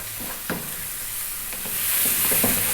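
Sliced liver fries in a pan on high heat, a bright steady sizzle that grows louder, punctuated by several close spatula scrapes and taps as it is stirred.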